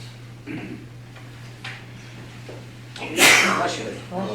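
A single sneeze bursts out near the end during a town board of selectmen meeting, loud and close over a steady electrical hum, with faint murmurs and small clicks earlier.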